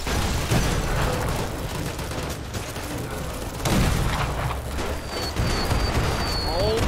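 Landmines blow up in the game Fallout: New Vegas, a dense run of loud booming blasts and gunfire-like bursts in quick succession, with people talking over them.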